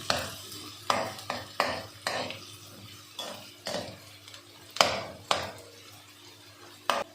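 Onions or spices browning lightly in a pan for chicken masala, with a soft sizzle beneath a series of sharp scraping clinks of a spatula or spoon stirring against the pan, roughly a dozen irregular strokes, close up.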